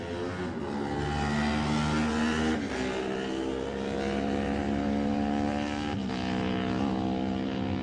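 A Team Gimbert Racing Honda motorcycle pulls away from the start at the 2017 Classic TT lightweight race, its engine climbing and revving hard through the gears, loud and close, with a steady continuous drone.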